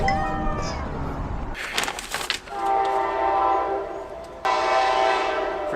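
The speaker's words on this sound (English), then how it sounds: "Freaking train." A train rumbles past close by with a loud, steady roar and clatter, its horn sounding in long sustained blasts.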